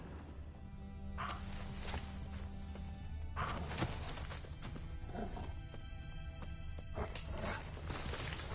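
Roach the horse galloping in The Witcher III, a steady run of hoofbeats carried under a busy game soundscape, with a few louder thumps and bursts scattered through.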